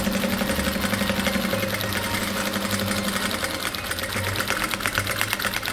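A sewing machine stitches patchwork fabric for a Christmas tree, running steadily and loudly with a rapid, even mechanical whir throughout, briefly slowing partway before resuming.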